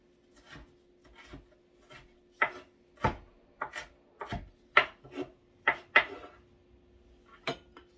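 Food chopped with a knife on a wooden board, a dozen or so irregular sharp thuds with soft rubbing between them, close and clear, with no talking.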